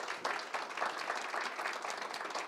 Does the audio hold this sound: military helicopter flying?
no